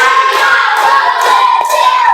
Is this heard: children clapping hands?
yes